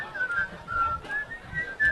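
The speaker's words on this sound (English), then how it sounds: "I picture you whistling." Someone whistles a short melodic tune, thin wavering notes rising and falling at close range over a faint background murmur.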